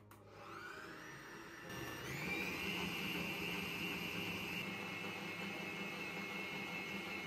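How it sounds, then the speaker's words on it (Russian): An electric hand mixer whips egg whites with sugar for an Easter kulich, its motor whirring steadily and rising in pitch and loudness partway through, then holding a continuous drone. "Белки мы взбиваем со второй половины сахара, тоже используем миксер."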